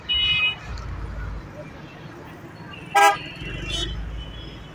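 Gridlocked traffic on the Peshawar–Nowshera road, with loud car horns tooting in short blasts over a low rumble of idling vehicles, and someone talking nearby.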